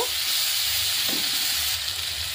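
Water is splashed into a pan of frying potato and spice masala, and a loud, steady hiss of sizzling steam fills the whole stretch close up, with faint stirring scrapes beneath and no voices.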